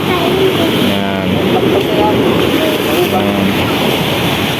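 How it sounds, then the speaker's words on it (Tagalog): Strong ocean waves break at the shore in a steady, loud wash of surf with wind buffeting the microphone, and voices murmur faintly underneath. "Di sila makaligo kasi lakas ng alon."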